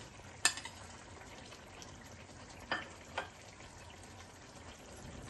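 Fish simmers in a pan of potato curry with a faint, soft bubbling sizzle, broken by a few light utensil clinks, quiet and close with no talking.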